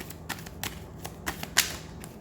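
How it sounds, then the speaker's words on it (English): Tarot cards being shuffled by hand, giving several short, crisp riffling bursts spaced irregularly, with the loudest one near the end; close and fairly quiet, with no voice over it. "I'm going to keep shuffling"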